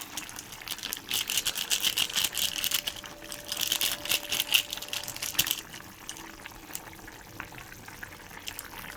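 A pot of paneer curry simmers, giving a continuous close crackle of small bubbles and pops that is busier in the first half and quieter toward the end.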